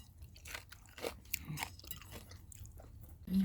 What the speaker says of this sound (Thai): ถั่วร้อยๆ ถั่วกรอบๆ ถั่วที่นี่ค่ะ